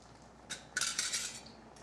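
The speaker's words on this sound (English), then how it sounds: "Stir it in there good." A utensil scraping and clinking against a pot while garlic powder is stirred into food, a few short bright metallic strokes close by, otherwise quiet with no talk.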